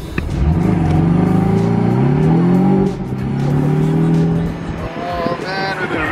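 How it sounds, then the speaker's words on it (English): A Porsche Boxster 718 with the roof down accelerates hard, its engine note climbing loud and close through a couple of gear changes before easing off with a rougher rumble at the end. "Let's see what the acceleration is like."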